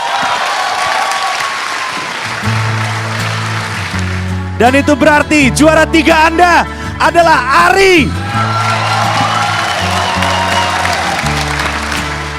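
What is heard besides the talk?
audience applause and cheering at stand-up comedy final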